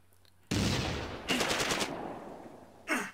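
Gunfire rings out in the Close Combat A Bridge Too Far wargame, in an infantry battle at Arnhem rail bridge: a sharp burst, then a rapid machine-gun volley and a final crack, loud and close.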